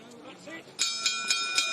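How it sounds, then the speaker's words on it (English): A boxing bell rings out to end a heavyweight contest at the Kingdom Arena in Riyadh, four bright metallic strikes in a steady rhythm, loud over constant arena crowd noise after a brief stretch of commentary. "The bell brings the contest to an end."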